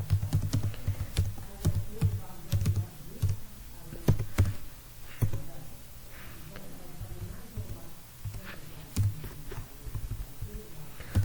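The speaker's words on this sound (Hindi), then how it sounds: "तो मैं यहां पे लिख देता हूं फॉर्मल आर्ग्यूमेंट" Typing on a computer keyboard while writing C code, a steady run of close, sharp key clicks with irregular rhythm and a low hum beneath.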